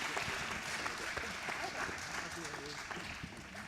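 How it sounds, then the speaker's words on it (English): An audience applauds guests at an evening church event, faint broad clapping that continues evenly throughout with voices and cheering mixed in, sounding distant and soft. "So, hey, give them a round of applause."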